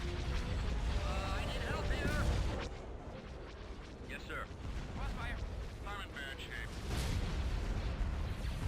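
Star Wars space-battle game audio with ion cannon fire aimed at an MC90 ship: continuous loud booming blasts and layered weapon effects, with a voice talking over it.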